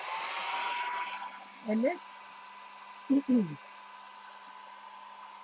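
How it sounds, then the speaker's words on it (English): A hair dryer on its cool setting blows steadily in the background, its airflow easing off after the first second, while a person speaks briefly over it, drying a gelli plate monoprint. "So hair dryer, cool,"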